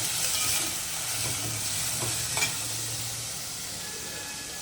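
Crab stir-fries in a pan for a dry-style dish, with a steady close sizzle and a few soft scrapes and clinks of stirring.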